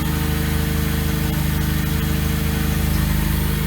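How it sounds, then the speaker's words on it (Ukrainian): Slavuta-Tavria car engine idling inside a garage with a newly fitted Bosal exhaust, running without choke, a steady close low rhythmic putter with a constant hum and no talking. "Хочу, щоб ви послухали, як машинка працює без підсоса"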